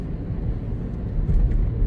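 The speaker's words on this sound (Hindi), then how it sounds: "ट्रैफिक काफ़ी है इस रोड पे," Heavy highway traffic rumbles past in a dense, continuous low roar of vehicles, steady and close with no talking.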